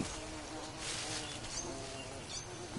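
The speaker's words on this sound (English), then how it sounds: "Bunch of bees." A dense, steady buzzing of many bees in the video game Green Hell, continuous and fairly close, with a low rumbling background and no voices.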